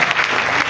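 A church congregation claps in a thick, even burst of applause at a French-language worship service, the many hands blending into one continuous, close, loud patter.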